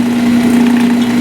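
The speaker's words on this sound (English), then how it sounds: "the chuck and the great drill pressy parts are spinning quite nicely" A 1930s Delta DP-220 drill press runs steadily, its motor giving a constant loud hum that holds for the whole moment, then cuts off near the end.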